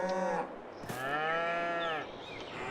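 Cows in the Farming Simulator video game moo twice, a short low call followed by a longer drawn-out one, loud and close against a quiet background.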